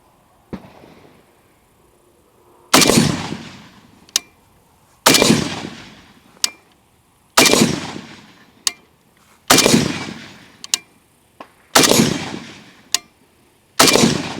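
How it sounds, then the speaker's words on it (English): Five slow rifle shots fired at a target, each a sharp loud crack with a short decaying echo, evenly spaced a couple of seconds apart, with fainter clicks between them. "Same exact spot, same target, same point of aim. 5 slow shots."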